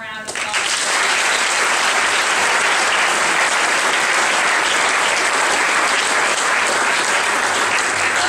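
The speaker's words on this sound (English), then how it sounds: "so let's give them a round of applause" Loud, sustained applause from a crowd, steady clapping that fills the whole stretch without a break.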